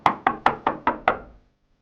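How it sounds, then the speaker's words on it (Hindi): Six evenly spaced knocks rap on a door, close and crisp, each fading quickly, with silence after the last one. "तभी किसी ने दरवाजा खटखटाया।"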